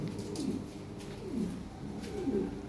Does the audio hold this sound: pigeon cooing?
yes